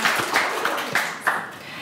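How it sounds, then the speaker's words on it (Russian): Audience applause at a school literacy contest show, with loud, fairly rhythmic claps that stand out about every third of a second over a dense background of clapping. "Аплодисменты."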